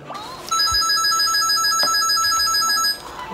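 A home telephone rings loudly and steadily for a couple of seconds, close by with no talk over it.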